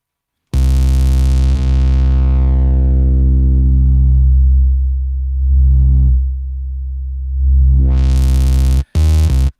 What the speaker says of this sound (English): Maybe put a bit of distortion on it as well.